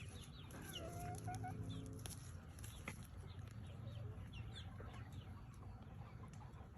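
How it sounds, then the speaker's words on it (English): Chickens cluck and chatter softly around a yard where cicadas are emerging, a steady murmur of fowl calls over faint background noise, with no talking. "the chickens are here waiting because they want to eat them"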